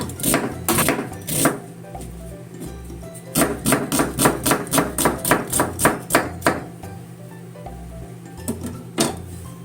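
A knife chops through onion on a cutting board in quick, crisp rhythmic strokes, a fast run of close knocks in the middle with scattered single cuts before and after, for a healthy tofu hamburger.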